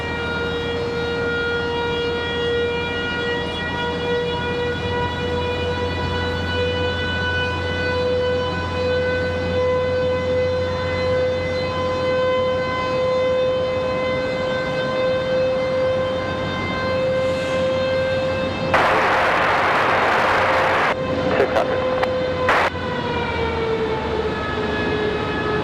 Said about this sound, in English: Sounds like an air raid siren.